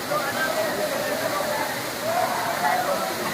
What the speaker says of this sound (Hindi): बी फॉल्स पचमढ़ी में बड़े और छोटे झरनों का एक आकर्षक समूह है